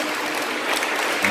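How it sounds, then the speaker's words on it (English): Applause from a youth rally audience fills the space, a dense, steady wash of many hands clapping with no voices standing out. "Round of applause for these young people who said yes"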